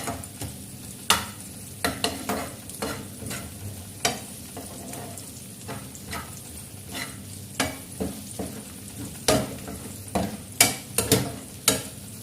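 Onions for chicken gizzard adobo fry in a pan with a continuous close sizzle. Frequent sharp clacks from a spatula stirring and scraping punctuate it at an uneven rhythm, and no one speaks.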